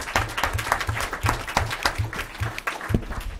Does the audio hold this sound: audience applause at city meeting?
yes